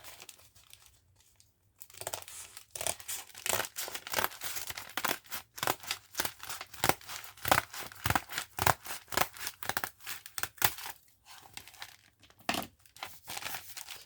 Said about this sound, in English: Inside we may have to do a little more trimming, which I will just do with my scissors.